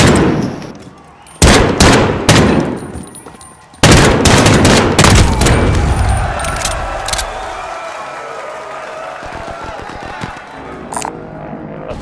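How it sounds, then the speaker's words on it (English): Bursts of assault rifle fire from a Call of Duty: Modern Warfare match, loud and close, with several sharp volleys followed by a lingering rumble and scattered quieter shots. "Assault rifle."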